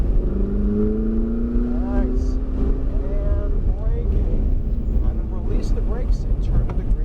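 A Ferrari 488 GTB at full throttle on a raceway track roars loud and close with a steady engine drone and rising pitch, while voices talk over it inside the car.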